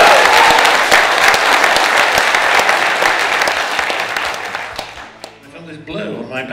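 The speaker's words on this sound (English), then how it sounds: "I get this massive round of applause." A theatre audience gives a loud, full round of applause that gradually thins and fades, then a voice begins speaking as the clapping dies away.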